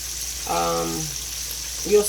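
Meat half fried in a pot for stew, giving a steady faint sizzle throughout, with a brief voice breaking in over the frying near the start and again at the end.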